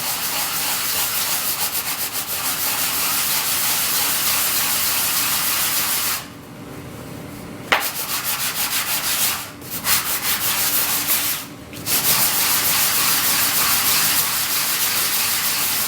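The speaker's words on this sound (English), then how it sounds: "this is the ring that we cut off, and we just need to be able to sand it for a gluing surface here" A cut-off wenge wood ring being sanded flat to make a gluing surface, heard as a loud, continuous abrasive rubbing with a few short pauses midway, close up and without speech.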